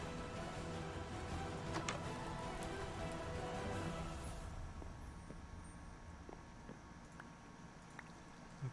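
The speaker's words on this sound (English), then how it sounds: "Okay, so it's raining." Rain falls steadily in a Minecraft modpack world, a dense broadband hiss that runs loud for the first four seconds, then thins to a quieter patter with scattered drop ticks.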